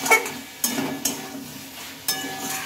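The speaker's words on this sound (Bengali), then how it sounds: "আলুটা দিয়ে নেবে, দিয়ে একটু মশলার সাথে ভালোভাবে মিশিয়ে নেবে।" Fried potatoes stirred into a sizzling spice masala, a low hiss of frying broken by several scraping clanks of a spoon against the pan.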